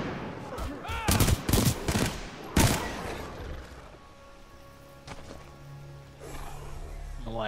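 Several loud bursts of gunfire in the Titanfall 2 video game come in quick clusters during the first three seconds, then fade into a lower, steady background rumble with a few fainter shots later on.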